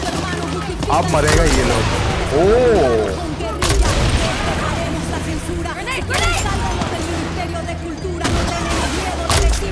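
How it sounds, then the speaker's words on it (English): Machine gun fire in Far Cry 6, bursts of rapid shots and booms mixed with chaotic game noise, while someone talks over the action. "Upar machine gun tha na."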